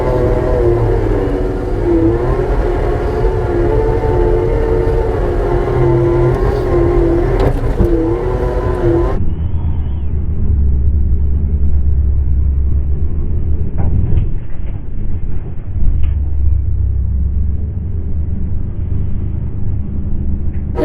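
A John Deere skid steer fitted with a suspension system drives over bumps with a loud, steady engine drone, then the sound shifts to a low, rumbling rattle of the machine rolling over rough ground.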